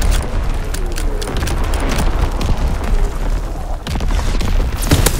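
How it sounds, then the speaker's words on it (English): Enemy artillery in Call of Duty: WWII pounds nearby in a rapid series of loud booming blasts. The heavy rumbling impacts overlap closely, with crackling debris between hits and a brief lull partway through. "Incoming enemy artillery!"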